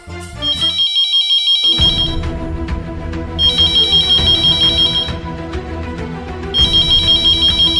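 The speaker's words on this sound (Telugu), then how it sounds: "ఇదిగో ఫోన్ మోగుతోంది," A phone ringtone plays loudly, a repeating electronic melody with bright chiming tones in bursts, recurring several times with no talking.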